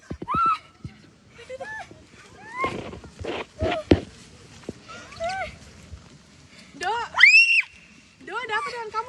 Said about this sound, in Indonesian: Zahira berteriak lebih kencang sampai para akamsi datang menemuinya.